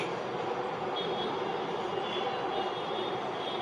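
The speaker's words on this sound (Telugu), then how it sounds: "ఇదిగో ఇంకో ట్రైన్ వచ్చింది చూడండి" A train rumbles past nearby in a steady, even roar, with a faint high whine running through it and no voices.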